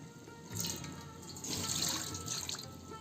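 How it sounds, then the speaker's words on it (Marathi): Water splashes and trickles onto a plate in short bursts while cooking chicken biryani, with a steady faucet-like flow in the background and no talking. "ताटलीवरती थोडं पाणी टाकतो आहे"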